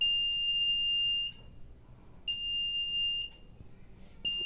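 A smart blind stick's buzzer sounds in steady high-pitched tones, each lasting about a second, three times in close succession, loud and clear against a quiet room with no talking.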